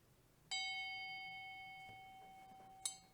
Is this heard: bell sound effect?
yes